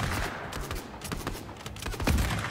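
Rapid gunfire in a video game firefight against an enemy player, with dense, overlapping shots that crackle over a steady background din at fairly close range. No voices come through.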